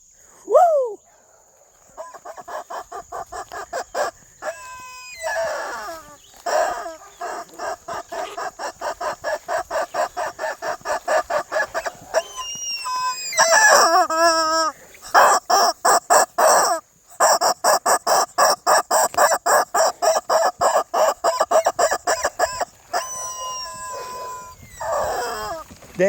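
Chickens on an early-morning homestead, loud and close, with a long stretch of rhythmic rapid clucking, squawks and a crow among them, sometimes overlapped by excited calls, continuing throughout.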